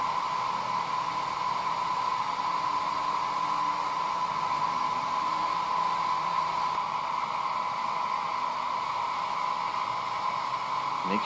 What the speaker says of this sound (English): get out your hairdryer again and heat it up